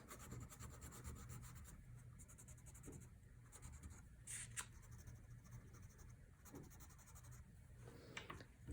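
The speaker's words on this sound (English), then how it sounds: "Now I'm going to go back in with my lighter green crayon and I'm going to color in those leaves." A light green crayon colors in paper leaves for a Mother's Day craft, making faint, steady waxy rubbing and scratching strokes up close, with no one speaking.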